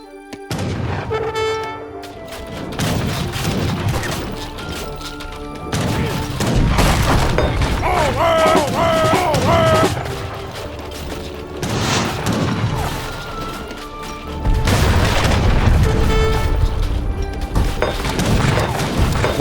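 Heavy bombard cannons fire in the Age of Empires III battle, deep booms and crashes recurring at intervals over a dense wash of game battle noise and music with horn-like tones.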